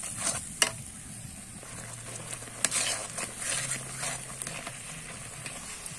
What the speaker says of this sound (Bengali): এতে সুন্দর করে ভালো করে কষিয়ে নিতে হবে